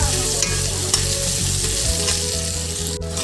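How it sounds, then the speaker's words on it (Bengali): Ginger paste fries with black mustard seeds and a broken dried chilli in a pan, giving a loud, dense, continuous sizzle up close with no voices. "আদাটাকে হালকা ফ্রাই করে নেব"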